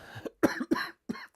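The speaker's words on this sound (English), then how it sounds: "Cough cam." A person coughs three or four times in quick, harsh bursts, close and fairly loud, with short pauses between them.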